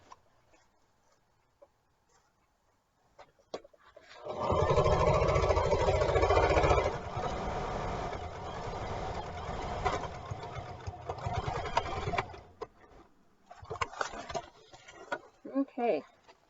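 A sewing machine stitches fabric for a back-of-chair organizer bag, running steadily at close range for about eight seconds after a quiet start, then stopping before soft handling noises.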